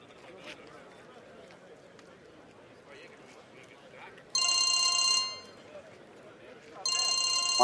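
A phone ringtone sounds in two loud electronic bursts, about a second each with a pause between, over a quiet room with faint background sound.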